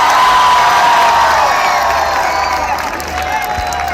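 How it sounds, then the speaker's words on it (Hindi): Large outdoor political rally crowd in Faisalabad, Pakistan, clapping and cheering together in a loud, sustained roar with shouts and whistles that dips slightly near the end. "हाथ उठाकर तालियों की गूंज में बताइए इमरान खान से कितना प्यार करते हैं"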